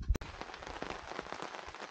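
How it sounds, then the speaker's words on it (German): Steady rain falls outside a cabin in Agder, Norway, a dense continuous patter of drops close by, briefly broken at the start by a sharp knock. "Wie schon erwähnt, es regnet heute."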